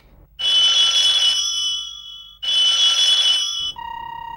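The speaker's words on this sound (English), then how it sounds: "Come on, pick up the phone." An old-style telephone in an English-dubbed anime rings unanswered, two loud, bright electronic trills separated by a short pause before a lower tone begins.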